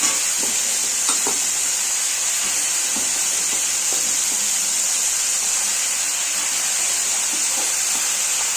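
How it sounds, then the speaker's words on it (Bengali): Potatoes and beans fry with cauliflower in a pan, giving a loud, even sizzle and hiss that runs the whole time, with a few faint scrapes of stirring up close. "আলু আর বিনসগুলো কপির সাথে আবার ভেজে নেব"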